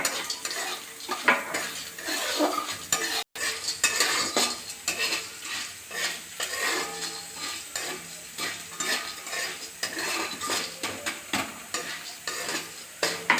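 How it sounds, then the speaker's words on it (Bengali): Lentil badi and dried chillies frying in oil, a busy sizzle overlaid with rapid, rhythmic scraping and clinks of a metal spatula against the pan, continuous and close. "শুকনো লঙ্কা দিলাম এরপরে বড়িগুলো দিয়ে দিচ্ছি বড়িগুলো লাল লাল করে ভেজে নিতে হবে"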